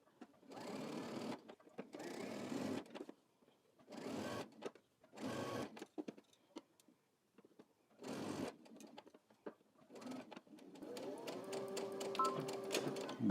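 Home sewing machine stitching a straight seam on a Simplicity S9554 garment: several steady whirring runs of a few seconds each, separated by short pauses, close up with faint mechanical clicks between.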